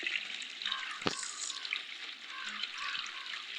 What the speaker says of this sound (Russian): сейчас идем к бочке, сливаем эту воду.